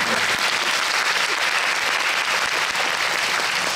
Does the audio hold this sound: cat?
no